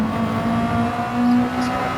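A Gran Turismo GR.3 race car holds a steady, droning engine note around the Red Bull Ring, a sustained mid-pitched hum with a slight swell as revs climb, fairly loud and unbroken.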